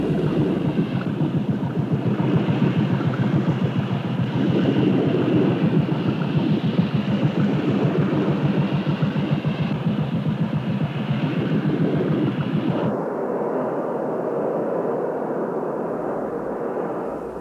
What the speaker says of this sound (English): the launch crew cranks to life a fire pump attached to a water jet